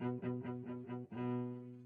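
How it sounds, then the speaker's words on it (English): A dry cello sample recorded in an anechoic chamber plays a few short repeated bowed notes and then one held note, rich in harmonics, with no room reverb at all, close and alone. "So what I've got here is a cello sample that was recorded in an anechoic chamber."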